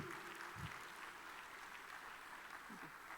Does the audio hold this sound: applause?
yes